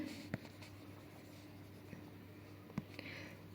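Chalk or a marker scratches steadily across a classroom board during a statistics lesson. The writing is faint and continuous, with a few light taps, under a steady background hum.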